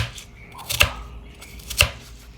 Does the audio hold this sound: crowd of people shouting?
no